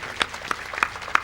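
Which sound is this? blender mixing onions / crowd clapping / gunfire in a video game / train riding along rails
crowd clapping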